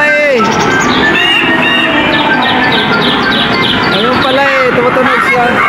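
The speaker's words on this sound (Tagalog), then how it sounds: "Pagka pinindot pala sa dito, tutunog yung ibon." A toy bird chirps and warbles repeatedly once its button is pressed, bright twittering calls close up, mixed with children's chatter and voices in the background.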